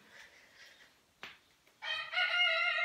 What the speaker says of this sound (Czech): Tady normálně řve kohout, jo?